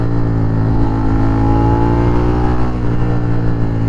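A 2021 Suzuki SV650 motorcycle engine idles and revs loudly up close, a throbbing twin-cylinder drone that rises and dips in pitch.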